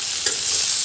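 Jackfruit seeds and spices stirred in a hot pan give a brief, steady, hissing sizzle with a faint scrape near the middle.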